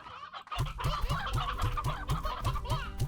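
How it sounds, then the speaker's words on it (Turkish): Chickens cluck in the video game Slime Rancher, a steady, evenly spaced run of close clucks repeating about three times a second, with no talk over them. "İyi tavuğumuz var ha."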